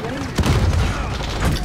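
A booming RPG-7 explosion in a first-person shooter video game on the Shipment map, loud and close, with a voice talking over the blast.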